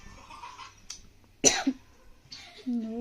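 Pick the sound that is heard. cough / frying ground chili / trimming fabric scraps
cough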